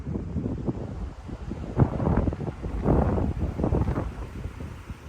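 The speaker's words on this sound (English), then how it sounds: "See, it's just crazy windy here." Strong gusts of wind buffet the microphone in a cemetery, a rough, rumbling roar that rises and falls in irregular bursts, with no talking.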